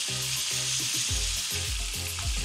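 Shrimp sauté in a pan over medium heat with a constant loud sizzle, broken by regular scraping strokes as they are stirred.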